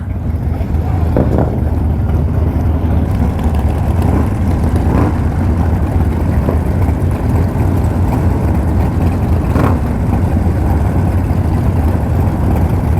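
Harley-Davidson Sportster motorcycles at a club-style gathering rumble with a loud, steady low engine drone, broken by a few brief swells as bikes pass close.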